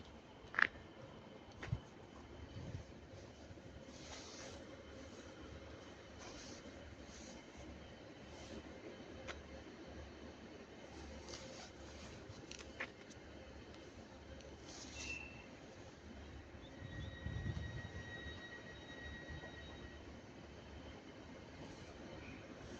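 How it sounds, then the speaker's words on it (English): A Transport for Wales train arrives at Stockport station, a faint, distant rumble of rolling wheels with a few soft clanks and a brief squeal over quiet platform ambience. "And now arriving is going to be the 1240 Transport for Wales service to Cardiff Central."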